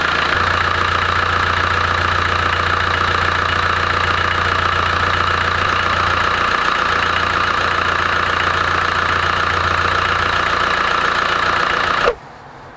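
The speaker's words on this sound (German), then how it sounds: "Motor ist durchgelaufen" A car engine runs steadily and loudly up close during a radiator coolant flush, a constant droning hum that cuts off abruptly at the end.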